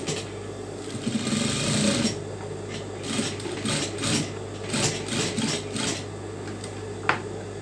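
A sewing machine stitches a saree blouse in a steady, continuous run of rapid mechanical chatter with a low motor hum beneath it, pausing and restarting in short bursts, close up and alone.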